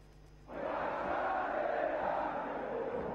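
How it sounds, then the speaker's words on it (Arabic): Al Ahly football fans in a stadium crowd break into loud, sustained cheering and roaring after a quiet moment, holding steady at full volume to the end. "هو ده صوت الجمهور اللي دايما بيدينا الحماس"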